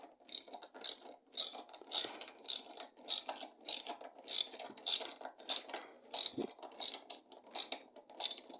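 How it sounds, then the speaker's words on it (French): A screwdriver tightening a skateboard truck during reassembly, a steady run of close ratcheting clicks repeating about once per second, fairly loud and with no speech. "vous mettez le tournevis là et vous serrez"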